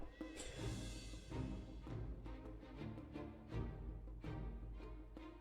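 A horse whinnies over a busy soundscape from the video game Humankind, with hoofbeat-like clops and steady background music throughout.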